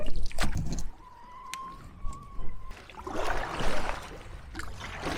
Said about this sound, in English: Been paddling for a few hours now.